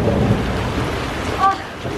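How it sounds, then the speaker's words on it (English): Thunder rumbles low and heavy through a hailstorm, with dense clatter of falling hail and rain filling the background; a brief faint voice-like tone cuts in near the end. "Baby's first hailstorm."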